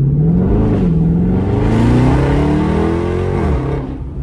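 A loud 392 Hemi engine of a 2020 Dodge Charger Scat Pack Widebody with a muffler delete revs up with a raw, throaty roar, climbing in pitch, dipping briefly, then rising again before easing off.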